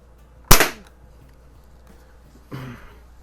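A Daisy BB gun, either a No. 101 Model 36 or a Model 102, fires one sharp, loud shot early on, and a fainter rattling thud follows a couple of seconds later.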